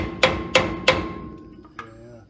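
Three sharp metal hammer taps ring out in quick, even succession against a seized brake wheel cylinder, followed by a fainter fourth knock after a short pause, close and clear.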